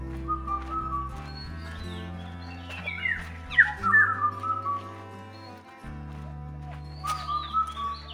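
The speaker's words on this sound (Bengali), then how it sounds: "সকালবেলা আসার একটাই তার অ্যাডভান্টেজ হচ্ছে বিভিন্ন পাখির ডাক আমরা শুনতে পাচ্ছি" Assorted birds call in a morning forest beside the Dulung river in Bankura, with scattered chirps and whistles rising above a steady tonal background that sits lower and louder underneath.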